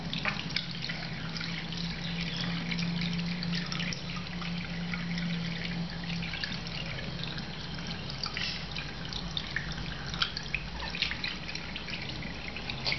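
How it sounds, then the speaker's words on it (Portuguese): Makeup brushes are rinsed under a running tap, and the water makes a steady trickling splash throughout with no talking. "Aí você vai enxaguar."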